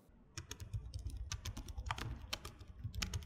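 Steady typing on the backlit keyboard of a Lenovo Legion 9i Gen 8 laptop with 1.5 mm key travel, a close, brisk run of soft clicky keystrokes heard alone.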